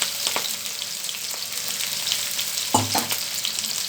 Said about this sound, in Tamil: சேர்த்துட்டு இதையும் நம்ம கொஞ்சம் நேரம் வதக்கி கொடுக்கலாம்.